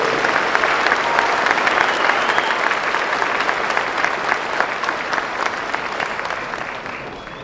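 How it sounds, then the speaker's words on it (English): Loud, sustained applause from a high school commencement audience for the chorus, a full crowd clapping steadily before slowly easing off. "Another round of applause for our chorus."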